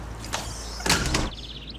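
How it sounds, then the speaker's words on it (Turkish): A door is slammed shut in a television drama scene, with a sharp thud and a brief rattle followed by a short mechanical squeak as it settles, no speech. "Suratıma çarptı bir de kapıyı ya."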